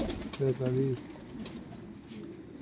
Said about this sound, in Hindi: ये 105 कबूतर निकल चुके हैं मोहसिन उस्ताद के